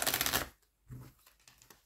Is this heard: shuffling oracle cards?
yes